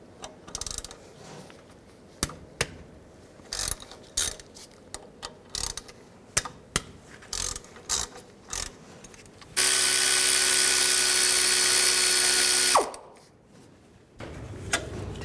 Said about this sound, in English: Take these two caliper bolts out, right here and here. Use a T45 socket.